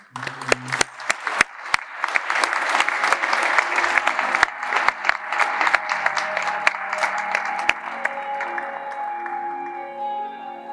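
Audience applause fills a conference hall as a McCarthy Tétrault partner is welcomed to the stage, steady dense clapping with a few sharp nearby claps, fading slightly toward the end.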